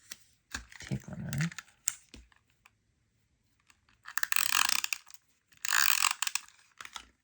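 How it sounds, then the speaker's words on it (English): Tape runner rolling adhesive onto a die-cut box card's back insert, producing bursts of clicky, ratcheting mechanical noise separated by quiet pauses, up close. "And I'm going to use some tape runner."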